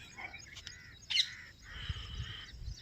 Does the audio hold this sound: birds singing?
yes